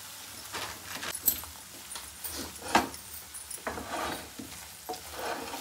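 Gram flour being stirred into a traditional Andhra-style dry gokarakaya curry in a pan, with irregular scraping and clinking strokes and a faint sizzle underneath, close and moderately loud.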